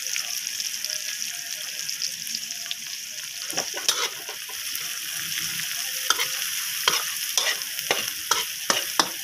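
Garlic, onion and black pepper sauté in a hot pan, a steady bright sizzle running throughout with scraping stirring strokes clustering toward the end; no one speaks.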